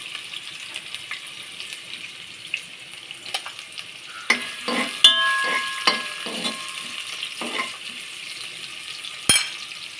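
Sliced onion fries in ghee with cloves and cinnamon, a quiet sizzle that grows louder as utensil scrapes and stirring clatter come in close, then fades back with one sharp tap near the end.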